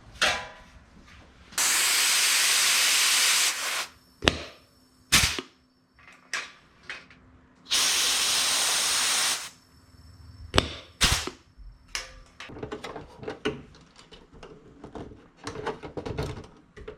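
A pneumatic rivet squeezer sets rivets on the flaps of a Vans RV-7A experimental airplane. Two long, sharp air hisses sound nearby, mixed with a series of quick metallic clacks and clicks in a quiet workshop.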